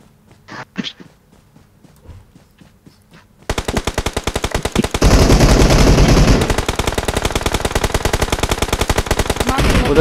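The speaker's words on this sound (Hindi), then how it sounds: "उधर से फायर दो, फायर दो" Rapid automatic gunfire from the video game PUBG Mobile, loud and sustained after a few quiet seconds, with dense bursts continuing to the end and faint voices early on.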